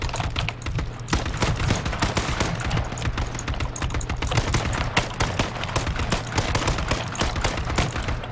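Gunfire in a first-person shooter video game rattles out as a dense, continuous stream of sharp, rapid shots at close range, with no speech.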